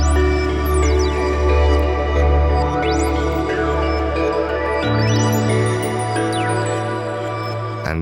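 Pre-recorded sequencer channels sampled into a Morphogene module play together as a dense, sustained electronic texture with pitched tones and sweeping glides. The layers drone continuously, and the low end shifts partway through.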